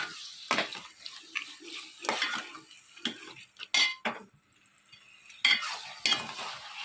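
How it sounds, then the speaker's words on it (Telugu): Chicken for a curry with ginger garlic paste stirred in a frying pan, irregular scraping and clinking bursts of a spoon against the pan over a faint sizzle, close up. "మొత్తం చికెన్ అంతా కలిసి ఇలా కలుపుకోండి"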